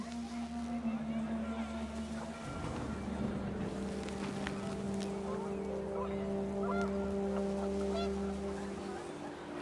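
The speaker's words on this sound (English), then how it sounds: "The wind picked up, and panicked geese appeared and quickly went." Panicked geese honk in a video game as the wind picks up, several drawn-out nasal honks over a steady low droning background, moderately loud.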